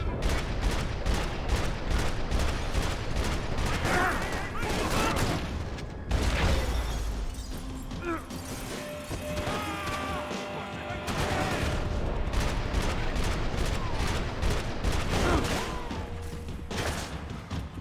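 Dense, rapid gunfire from Max Payne 3 during a slow-motion shoot dodge, with sustained bursts of shots and booming impacts that ease off briefly midway before the firing resumes, loud and close, with a voice talking underneath.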